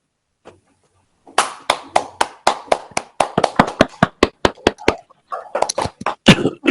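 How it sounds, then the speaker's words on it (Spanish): Audience at a conference breaking into applause: after a brief quiet moment, many hands clap in a crisp, rhythmic burst that holds steady for several seconds, close and loud, then grows looser and more scattered. "Vamos a darle un fuerte aplauso al compañero Justiniano para que inicie su exposición."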